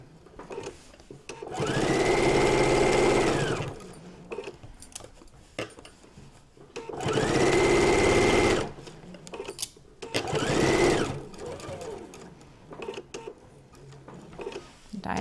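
A sewing machine running a diagonal stitch whirs in three loud, sustained bursts separated by short pauses and light handling clatter.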